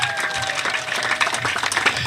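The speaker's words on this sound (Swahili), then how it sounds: "Hebu pigie rais wetu makofi" A crowd at a public gathering in Kilifi North applauds the president with continuous clapping and scattered crowd noise, a few individual claps standing out near the front.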